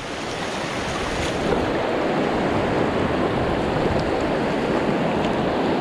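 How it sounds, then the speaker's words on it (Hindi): Strong mountain river flowing during a crossing on foot near Satpuli, a loud, close, continuous rushing roar of water over stones. "नदी आ रही है भाई तगड़ी"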